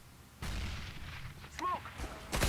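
In the CS:GO video game, a grenade goes off with a heavy, booming blast that rolls on, followed by more gunfire-like bursts, while players shout over it.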